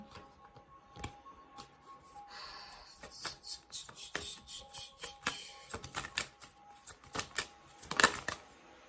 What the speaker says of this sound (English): I feel like I want to shuffle some more